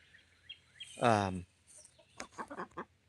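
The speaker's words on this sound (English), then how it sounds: "There's chickens coming up from the hill now." A chicken lets out a drawn-out squawk, then a run of quick clucks follows, fairly close in a quiet outdoor setting.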